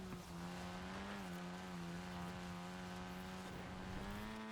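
Forza Horizon 4 van engine and tires, a steady sustained drone with a strong low harmonic stack and slight pitch rises, as if cruising and spinning around, loud and continuous with no talk.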